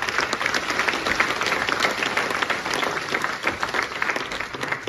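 A church congregation bursts into sustained applause, many hands clapping densely and evenly for several seconds in a large room.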